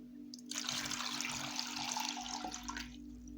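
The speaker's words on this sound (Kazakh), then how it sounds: "Үстінен мұздай толтырып суды құямыз." Cold water pours steadily into a large pot holding prunes and sliced apples for a fruit compote, a close, continuous splashing gush lasting a couple of seconds before tapering off, with no talk over it.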